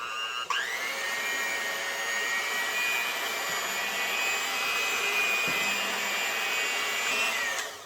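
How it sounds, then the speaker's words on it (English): An electric hand mixer fitted with dough hooks kneads pizza dough at low speed, a steady close-up motor whine that starts abruptly and runs evenly, with a faint thump partway through, and winds down at the end. "I'm using a hand mixer. I got the dough hooks installed, and you want to go at like speed 2 for about 5 minutes."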